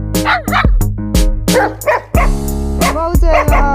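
A black dog barks in the snow at -12 degrees in Xinjiang, a run of loud, close, sharp yapping barks in quick bursts with brief whimpery tails, while people exclaim and talk over it.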